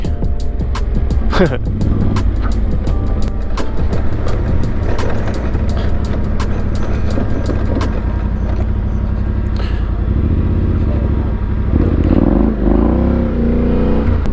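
Adventure motorcycles, including a KTM 1290 and several 890s and T7s, ride a dirt trail in southern Colorado, with a steady loud engine drone and rough rattling knocks throughout and a surge of throttle near the end.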